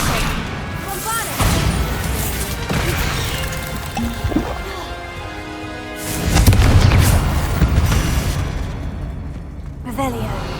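A Bombarda explosion spell goes off in Hogwarts Legacy, a loud booming blast with crackling debris among other spell effects, under game sounds and voices.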